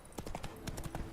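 Roach, the witcher's horse in The Witcher 3, trots with a quick run of clip-clop hoofbeats in a steady uneven rhythm, close and fairly loud.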